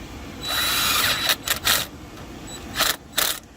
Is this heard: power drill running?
yes